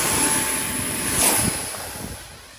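A model X-29 airplane flies after a hand launch, a close, steady whirring motor and propeller drone that swells briefly as it passes, with wind noise throughout.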